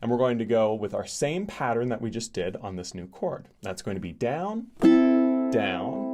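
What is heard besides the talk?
None of the usual background noises is heard.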